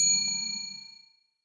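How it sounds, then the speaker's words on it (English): A single bright bell ding rings out clearly, its metallic tone fading smoothly over about a second into silence. "Bell."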